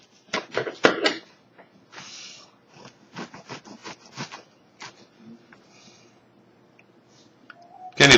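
Focaccia bread being cut with a knife, a string of close crisp crackling and scraping crunches in short bursts, separated by quiet pauses.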